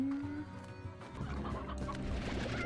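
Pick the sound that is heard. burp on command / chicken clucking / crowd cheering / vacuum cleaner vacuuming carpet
chicken clucking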